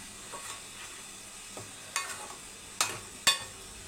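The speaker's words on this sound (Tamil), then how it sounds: "இப்போ கத்திரிக்காவை சேர்த்துக்கோங்க. ஒரு 1/4 கிலோ கத்திரிக்காய் நல்லா மிக்ஸ் பண்ணி விட்டுருங்க." A quarter kilo of eggplant being stirred in a pan with garlic, a spoon scraping and clacking at the pan every so often over a faint, steady sizzle, with a few sharper knocks toward the end.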